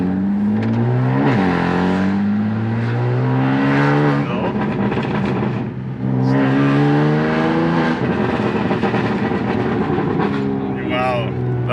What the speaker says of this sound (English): now we're taking the car for a spin to see if it builds boost.